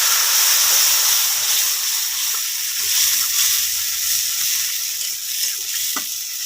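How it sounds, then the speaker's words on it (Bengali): Tomato added to fried onions in a pan sizzles loudly and steadily throughout, with faint stirring knocks underneath. "আমি এর ভিতরে টমেটোটা দিয়ে দেবো।"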